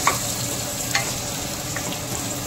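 Tomatoes fry in a pan while karela sabzi cooks, giving a steady close sizzle with faint stirring scrapes throughout.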